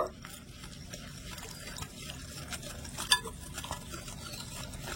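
Sour yogurt and a little salt stirred together in a bowl, a soft, close scraping and swishing with occasional light clinks of the utensil against the bowl, quiet and continuous.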